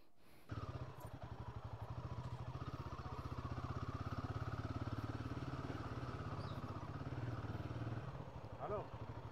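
A parked motorcycle's engine starts and runs with a steady, close, pulsing thump at idle for several seconds before cutting off near the end.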